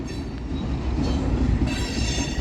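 A Union Pacific manifest freight train led by UP 1996 rolls past at close range through Central Avenue in Metairie, a loud continuous rumble of wheels and rail cars with squealing metallic overtones.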